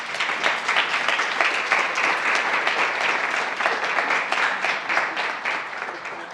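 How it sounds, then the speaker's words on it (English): Sustained applause from a crowd at a graduation ceremony, dense steady clapping that fills the whole stretch without letting up. "give them a round of applause"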